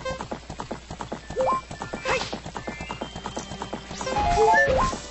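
In Zelda: Ocarina of Time, a horse's hooves clip-clop in a quick, steady rhythm, then slow and stop before the horse lets out a bright, whinnying neigh alongside game sound effects.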